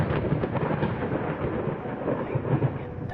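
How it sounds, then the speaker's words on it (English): A low, continuous thunder rumble rolls through a stormy scene in the horror video game Layers of Fear, fairly loud and steady with no speech. "Lightning and thunder."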